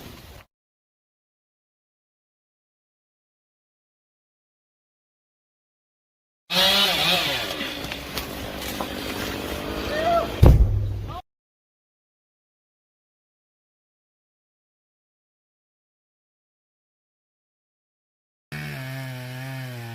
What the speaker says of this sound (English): The man approaches, gripping his sharp chainsaw with steady hands.